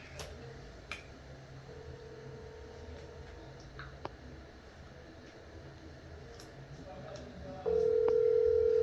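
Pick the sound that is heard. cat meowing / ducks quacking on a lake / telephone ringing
telephone ringing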